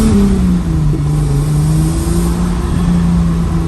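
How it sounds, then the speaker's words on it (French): A Mercedes 600 engine runs loud and close from inside the car, a steady mid-pitched drone that dips slightly in pitch and then holds even as the car cruises. "le moteur il tourne super bien"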